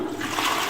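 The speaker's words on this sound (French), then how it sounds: "Ça fait une méga chasse d'eau" A toilet in a playground park flushes with a loud, close rush of water, a continuous roar that fills the short moment without any talk.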